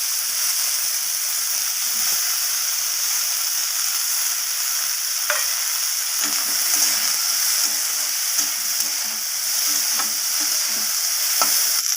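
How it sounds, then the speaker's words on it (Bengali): Sliced bitter gourd fries in hot oil with a continuous loud, bright sizzle. Faint stirring clicks break through now and then, and no voices are heard. "এরপর আমি ওই একই তেলেতেই কেটে রাখা উচ্ছেগুলোকে উচ্ছে বা করলা যেটাই বলবেন তো সেটাকেও আমি দিয়ে দিলাম"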